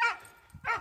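A dog gives two short, sharp barks close by, separated by a brief pause.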